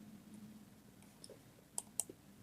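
A few faint mouse clicks, two or three quick sharp ticks over low background hiss, on a Continue button while exporting course content.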